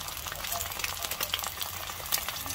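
Food fries in a kawali with a steady, crackling sizzle and occasional stirring clicks, close by and moderately loud, with no talk over it.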